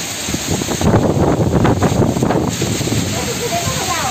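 Strong cyclonic storm wind on the Konkan coast roars against the microphone, a loud continuous gusty rush with hissing buffets, close and unbroken.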